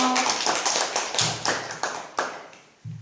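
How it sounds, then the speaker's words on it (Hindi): Schoolchildren in a class 3 classroom clap in a short burst of several sharp, irregular claps, close and fairly loud, fading toward the end with one final clap. "वेरी गुड, ताली बजाओ।"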